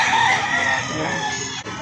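Chickens cluck and a rooster crows at a busy early-morning poultry market in Lipa City, Batangas, the calls loud and close in a short burst over a crowded background.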